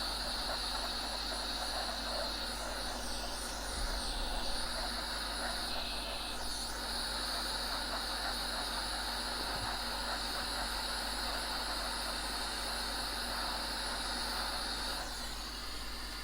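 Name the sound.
hot air heating a chip on a PC motherboard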